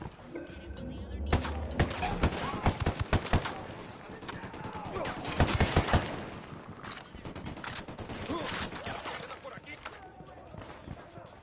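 Bursts of gunfire ring out in the Ghost Recon Wildlands video game, with rapid volleys and scattered single shots mixed with thuds. The shooting sounds fairly close and mostly continuous, and voices talk over parts of it.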